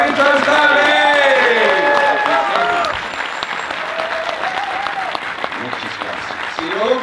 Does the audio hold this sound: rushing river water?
no